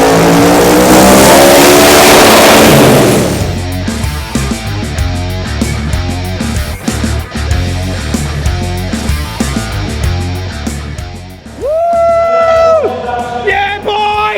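A 2483hp twin-turbo V8 VH street car roars loudly at full throttle, then keeps running with a steady engine drone under a cheering crowd. Whistling, rising turbo-like tones come near the end.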